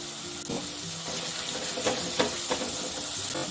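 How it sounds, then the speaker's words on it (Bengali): Ground spices and turmeric fry in hot oil in a pan, crackling steadily at close range, with occasional scrapes and clinks of a spatula stirring them and no talking. "ভালো করে সব মশলা কষিয়ে নেব"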